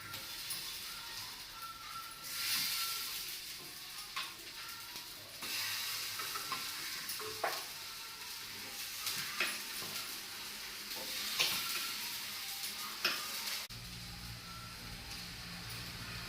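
Masala-coated raw banana slices fry in oil on a dosa pan, a steady soft sizzle with scraping and stirring clicks, close but faint, with no talking.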